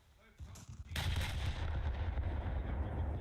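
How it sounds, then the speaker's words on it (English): Naval ship guns fire shells in the War Thunder video game, with a few thuds building into a heavy sustained booming roll of gunfire and rumble. "And if my shells hit perfectly, then dead heavy cruiser."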